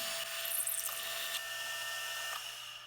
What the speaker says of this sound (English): So this is just a simple matter of drilling out and then boring out accurately.